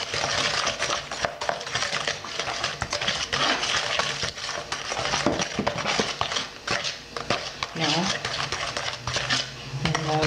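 Peach cobbler batter is mixed with melted butter in a bowl, giving a continuous run of close utensil scraping and clinking against the bowl in quick, uneven strokes, with no talking.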